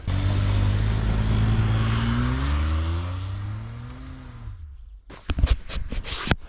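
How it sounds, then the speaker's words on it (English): An old Kia with all-wheel drive engaged and traction control off revs hard in snow, its engine note climbing loudly and steadily for several seconds before cutting out abruptly, followed by a few scattered clunks and rattles. "Turn on all-wheel drive, turn off traction control, and give it lots of gas."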